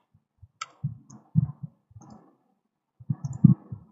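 Quiet keyboard and mouse clicks while a value is typed into a prompt and OK is pressed, a few isolated taps followed by a small cluster of clicks near the end, close and otherwise silent.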